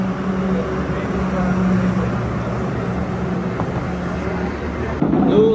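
A tractor carrying an electricity pole approaches with a steady low engine drone and rumble, continuous and fairly loud, while a person talks over it.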